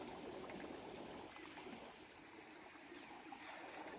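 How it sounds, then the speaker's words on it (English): A river near the Mono Hot Springs pools rushes in a soft, continuous wash, fairly faint and with no talking. "You can hear the river."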